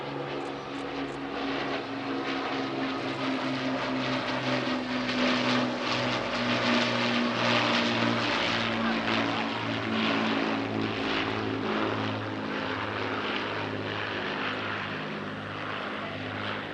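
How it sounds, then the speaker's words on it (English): An Avro Lancaster B-1 bomber makes a flypast at the Shuttleworth airshow, its piston propeller engines sounding a deep, pulsing, throbbing drone that swells and holds loud for the whole stretch. "The Lancaster tends not to perform full displays at Shuttleworth, but rather performs flypasts."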